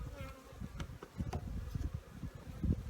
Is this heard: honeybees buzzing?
yes